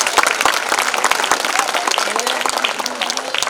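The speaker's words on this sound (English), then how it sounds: "Can we give them one more round of applause for them as well?" An audience at a school event claps steadily for children who performed, a dense burst of applause with faint voices mixed in.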